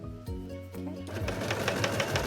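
A sewing machine stitches a face mask made from old T-shirt fabric with elastic, a few slow, separate stitches at first, then a fast, steady, close run of rapid needle strokes.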